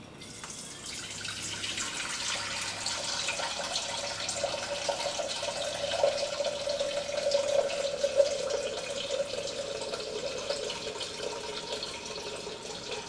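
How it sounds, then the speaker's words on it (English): Hot water runs steadily from a tap into a container while soap is being made, a continuous broad hiss with a faint trickling tone, fairly loud and close, with no talking. "Start over with the hot water."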